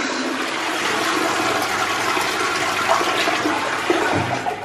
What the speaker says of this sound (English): Button for the bottom flush